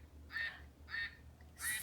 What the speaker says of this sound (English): That's a mallard duck.